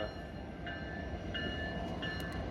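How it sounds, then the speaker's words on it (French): A train rumbles past close by, a steady broadband roar with faint high squeals or whistle tones rising over it. "je m'excuse pour le bruit, je passe à côté d'un train"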